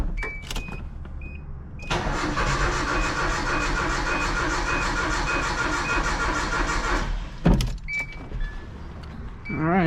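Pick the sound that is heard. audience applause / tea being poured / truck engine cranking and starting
truck engine cranking and starting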